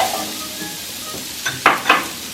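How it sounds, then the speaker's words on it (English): Onions, celery and Granny Smith apple sauté in a little oil in a pan, a steady soft sizzle with a few sharp scraping stirs near the end. "we are going to saute all of this together until it becomes nice and soft"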